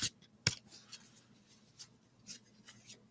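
Tarot cards shuffled by hand in a quiet room, giving a few sharp riffling snaps and soft papery rubs spread unevenly over a few seconds, with faint background hum.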